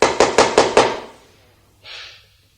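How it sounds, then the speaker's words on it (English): Five sharp knocks on a door in quick succession, loud and close, followed after a pause by a brief softer rustle. "Peter, there's someone at the door."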